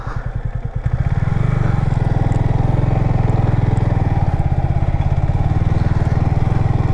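A sports bike ridden off-road up a rocky hill at Puligundu, its engine firing in a fast steady pulsing chug after a brief rougher start, loud and close, no talking.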